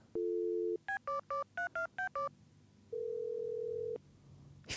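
Telephone dialing in the video game Stardew Valley: a short tone, then a quick run of seven or so beeping keypad digits, followed by a longer steady tone, all clean and synthetic.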